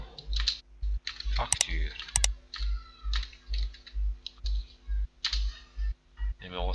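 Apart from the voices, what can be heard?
typing on a computer keyboard in Excel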